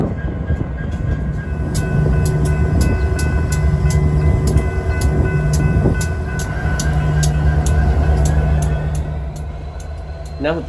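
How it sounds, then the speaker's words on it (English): A Wisconsin and Southern freight train reverses slowly on the mainline in a small town to pick up a string of hopper cars, with a steady low rumble, rhythmic wheel clicks and squeal, and a faint voice in the background. "the train once again begins to reverse to pick up the second string of hoppers"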